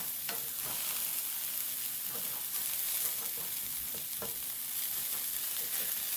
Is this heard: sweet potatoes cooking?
yes